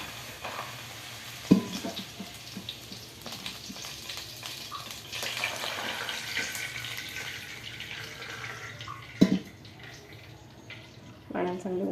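Water is poured onto one cup of rice in a cooking pot, about one and a half cups, making a steady rushing splash for several seconds with a few sharp knocks.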